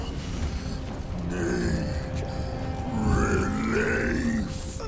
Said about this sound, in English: about to belch.